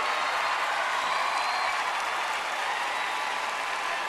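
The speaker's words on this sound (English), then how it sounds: "Another round of applause for Africa and Asia Pacific." Steady, dense applause from a large crowd at the Miss Universe 2018 pageant fills the whole stretch, loud and continuous without letting up.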